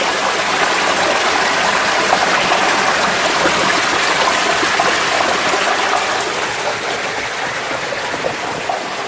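A stream of water flows steadily inside a cave at Baijnath near Paprola, a loud, continuous rushing gush that holds almost constant throughout with no voices.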